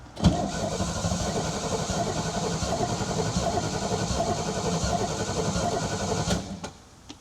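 An Oldsmobile 455 V8 engine in a 1972 jet boat runs loudly and steadily after a sharp start, a dense continuous rumble that cuts off abruptly near the end.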